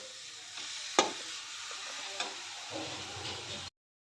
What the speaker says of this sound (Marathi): आता हे सर्व मिक्स करून 1-2 मिनिटं परतून घेते।